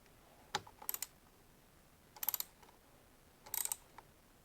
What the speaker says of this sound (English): Next, I'm tightening the bolts going through the clamp, the screws that go into the lock nuts underneath